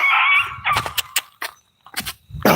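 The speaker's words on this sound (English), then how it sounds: "it looks like Wanda's dogs" Several dogs bark and yip outdoors at night, a loud sustained bark followed by scattered sharp barks with gaps between them.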